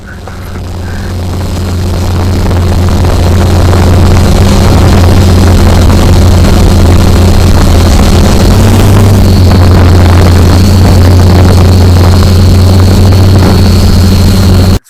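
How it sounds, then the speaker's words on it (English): XK X-380 quadcopter drone motors spooling up for automatic takeoff, then holding a steady hover about three feet up, a loud continuous buzzing whine that swells over the first few seconds and stays close and constant. "Press one button, it'll take off and hover 3 feet like you just saw"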